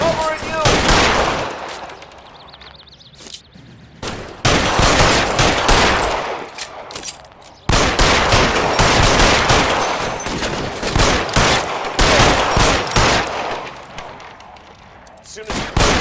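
Gunfire in an L.A. Noire shootout at an electroplating plant: dense bursts of rapid shots and heavy single reports, loud and close, broken by brief lulls around the four- and eight-second marks.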